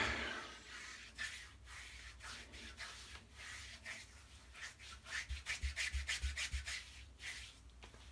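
A shaving brush rubs TOBS sandalwood shaving cream into the face with soft, close scrubbing strokes, quiet and rhythmic, speeding into quicker back-and-forth swishes toward the end.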